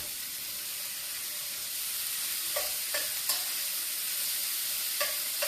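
Seasoned shrimp fry in a hot pan with a steady, even sizzle that grows slightly. Faint clicks of a spatula or utensil break in now and then.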